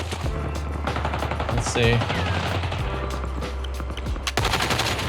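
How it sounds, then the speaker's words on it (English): Heavy automatic gunfire from several enemies in Call of Duty Warzone, loud continuous bursts and shots throughout, with a brief spoken remark partway through. "That's 4 guys shooting me."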